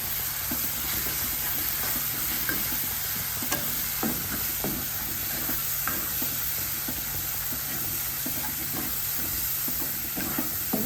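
A masala paste of ginger, onion, chili, coriander and turmeric fries in a pan for a tomato masala curry, giving a constant loud sizzle with steady stirring clicks and scrapes throughout.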